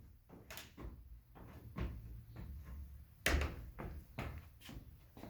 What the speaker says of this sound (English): You hear the ugly squeak?